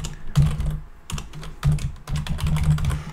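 Typing on a computer keyboard while working in a terminal, with irregular bursts of close, clattering keystrokes separated by short pauses.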